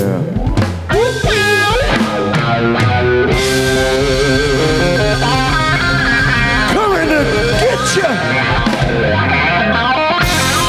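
Electric guitar played through effects units by a guitarist at a music-history lecture, a loud continuous run of sustained distorted notes and bends with dense harmonics, steady and close throughout.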